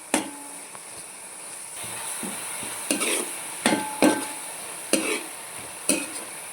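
Fish frying in a pan for an Andhra-style fish curry, a steady soft sizzle with a high hiss, punctuated by several sharp spatters and stirring knocks toward the end, with no talking.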